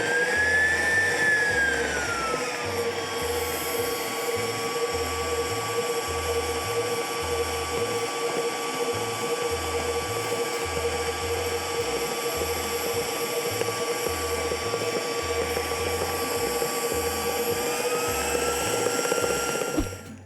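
A stand mixer whirs steadily as it beats brownie batter for snowman brownie cupcakes. The motor drone is close and continuous for about twenty seconds, its pitch shifting slightly, with no talking.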